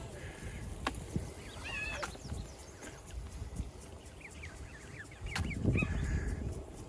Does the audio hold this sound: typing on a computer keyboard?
no